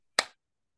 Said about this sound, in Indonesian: tepuk satu, tepuk satu, tepuk dua, tepuk dua